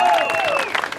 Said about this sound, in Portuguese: Uma salva de palmas para o Fernando Dias